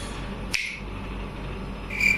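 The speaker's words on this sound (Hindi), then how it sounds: "अब मैं चुटकी बजाऊंगा तो बेबलेट आएंगे।" A single sharp finger snap cracks out near the start, close and brief, then fades into a quiet room with no voices.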